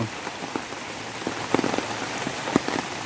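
Heavy rain pours steadily onto a garden of taro and banana plants, a dense continuous hiss with scattered louder drips and splats landing nearby, no voices present.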